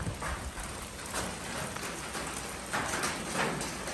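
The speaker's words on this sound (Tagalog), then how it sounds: "Ito maulan, walang tigil-tigil." Steady rain falls on a farm, a constant close hiss of drops with slight swells and no voices.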